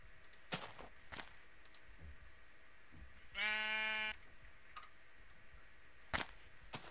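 Minecraft sheep giving one clear bleat of about a second, a faint game sound amid quiet scattered clicks and taps, with no talking.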